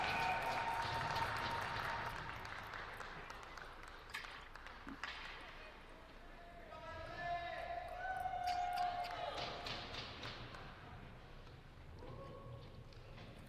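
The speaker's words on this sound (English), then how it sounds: "Fans are just going crazy tonight in the stands." Hockey crowd at Shields Arena roaring and cheering in the stands during a women's game, a sustained wash of noise with swells and bursts, announcer-style voices mixed in.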